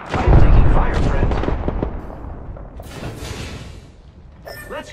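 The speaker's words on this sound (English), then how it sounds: "Look out, grenade! I am taking fire, friend." Video game firefight with dense gunfire and a grenade blast, loud booming bursts in the first seconds that thin out into scattered shots and mechanical clatter, with game voices calling out over the action.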